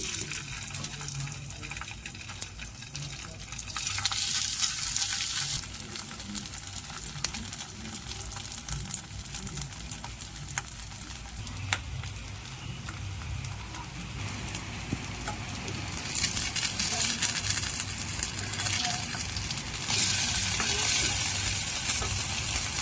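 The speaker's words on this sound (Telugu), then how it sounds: "ఇప్పుడు ఈ కట్లెట్స్ని మనం ఫ్రై చేసుకోవాలి. ఫ్రై అంటే మనం నూనెలో వేపమేమి కాలుస్తున్నాము." Aloo poha cutlets shallow-frying in oil over a low flame, giving a steady soft sizzle and bubbling that swells in a few louder bursts, with no talking.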